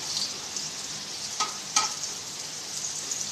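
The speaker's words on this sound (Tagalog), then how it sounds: "Magigisa na tayo ng mga ricado. Ayan. Magiging po na. Yung bawang, kapag golden brown na." Garlic sautéing in palm oil in a pan, a soft steady sizzle with a couple of brief spoon scrapes, no talking.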